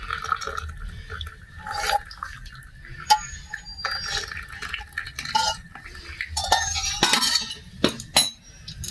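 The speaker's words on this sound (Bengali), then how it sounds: "এবার আমি কাপে ঢেলে নিচ্ছি।" Hot ginger pepper tea is poured into a cup with soft liquid splashing and trickling, broken up by clinks of glass and utensils, fairly close and moderately quiet.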